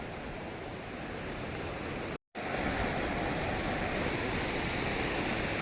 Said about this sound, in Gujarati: આ પાણીનો પ્રવાહ તમે જોઈ શકો છો